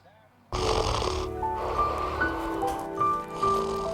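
Exaggerated snoring in a radio ad for a snoring treatment clinic, played during a high school baseball broadcast: loud, close rasping snores rising and falling in a slow rhythm after a short quiet lead-in.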